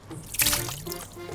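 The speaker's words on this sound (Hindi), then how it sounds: "वॉश बेसिन का नल चलाकर पानी अपने मुंह पर मारा" Water running from a wash basin tap, a short close trickle and splash lasting about a second with a brief louder gush in the middle, then softer running water.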